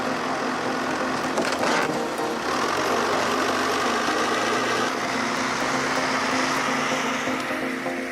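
A large tracked stump removal machine's engine drones steadily and loudly throughout, with a burst of crunching or splintering noise near the start and rough mechanical rumble as the machine moves over terrain.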